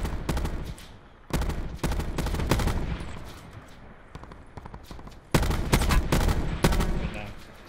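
Loud gunfire from another team in a battle royale video game rattles in rapid bursts, near and sharp, with brief pauses and a quieter stretch between volleys.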